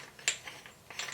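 A bolt being tightened on a Darth Maul lightsaber stand makes a few quick, faint ratcheting clicks up close, a sharper click near the start and another near the end, with no talk.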